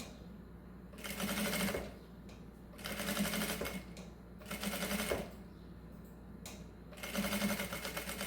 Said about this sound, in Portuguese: Vou passar uma costura com um pezinho de máquina.